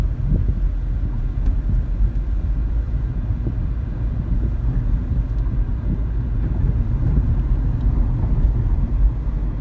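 A Nissan Sentra drives along the road, and its engine and tire noise form a steady, loud low rumble with some wind buffeting and no pauses.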